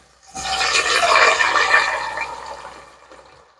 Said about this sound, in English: I'm going to go in with a can of diced tomatoes first